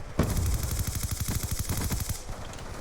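Rapid automatic gunfire in Call of Duty: Black Ops II multiplayer, a loud, dense burst of repeated shots lasting nearly three seconds, then tapering off.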